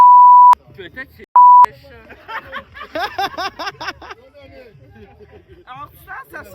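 Two loud, steady censor bleep tones cut over speech near the start of a French vlog, followed by several people talking and laughing.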